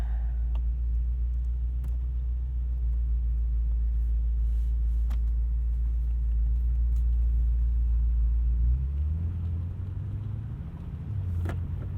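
A 2020 BMW M8 Competition Coupe's engine fires up and settles into a deep, steady rumbling idle close by, the low drone shifting pitch slightly near the end.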